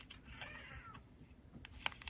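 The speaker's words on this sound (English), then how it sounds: "my cat just meowed at me" A pet cat sitting on a lap gives one short, soft meow, faint and close, followed by a few light tapping clicks in an otherwise quiet room.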